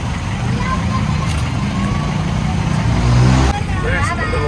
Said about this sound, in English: Always lots of traffic when school finishes here.